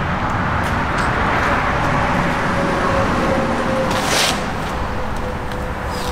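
Steady road noise from a BMW car, a continuous broadband rumble and whoosh with a faint whine, fairly loud and even throughout, easing slightly near the end.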